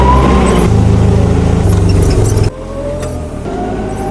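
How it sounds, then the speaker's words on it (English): Forklift in a woodworking shop driving along, its engine rumbling loud and close with a rhythmic drone that drops off abruptly partway through, then continues at a lower level. "Let's go get the forklift."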